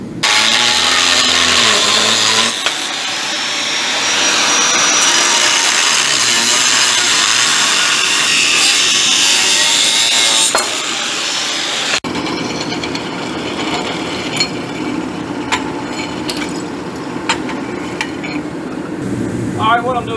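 Loud, steady whine of a power tool cutting metal on a 1940 Chevy coupe, changing pitch partway through, followed by rougher intermittent cutting noise.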